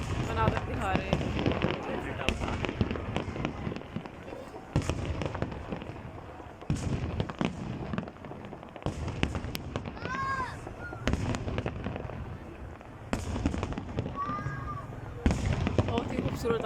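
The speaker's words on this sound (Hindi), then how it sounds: "बहुत ही खूबसूरत आतिशबाजी" New Year 2023 fireworks display at the Eiffel Tower replica in Bahria Town, Lahore, with continuous crackling bursts and booms, some whistling rockets, and someone talking throughout.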